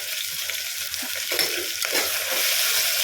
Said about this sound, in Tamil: இப்போ பார்த்தீங்கன்னா தக்காளியும் இஞ்சி பூண்டு பேஸ்ட்டு போட்டுருக்கேன்